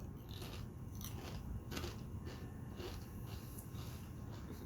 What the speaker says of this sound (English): The chip is very crunchy.